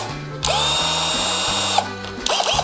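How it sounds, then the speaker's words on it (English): A Dremel rotary tool whines steadily as it cuts around a vintage brass camera lens for a large format camera, a loud high-pitched buzz that starts, pauses briefly, then resumes with short bursts. "then with the Dremel cut all the rest"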